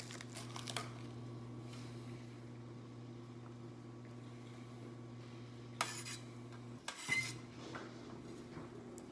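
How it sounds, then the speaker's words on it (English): A knife chops off vegetable stem ends on a board, with a few sharp, widely spaced cuts standing out against a steady low background hum. "I'm gonna chop off the other end, kind of, because you want to get the ends even, so I'm gonna chop off the ends"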